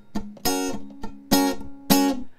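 Guitar strum pattern where each full ringing strum is followed by two muted percussive clicks, repeated three times at a steady pace, close and alone without talking.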